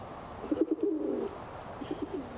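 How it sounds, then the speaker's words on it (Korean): In a medieval village video game, a pigeon gives a soft rolling coo, a burst of several throaty notes followed by a shorter, fainter repeat near the end, heard alone against a quiet background. "얘가 비둘기예요."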